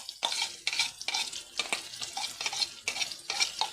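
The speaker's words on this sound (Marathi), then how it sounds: "आपला आता याच्यामध्ये नाही का याच्यामध्ये असे बारीक प्युरी केलेली हे टाकून देऊ" A green puree sizzles in a hot pan while a spatula stirs it in quick repeated strokes, each scrape bringing a burst of frying hiss, close and steady with no voices.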